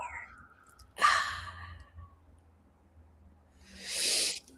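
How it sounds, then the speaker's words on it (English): Two long, airy breaths during a paced breathing exercise, a sharp breathy rush followed by a slow exhale a few seconds later. Both are close and otherwise quiet. "Hold 2, 3, 4. Exhale 2, 3, 4."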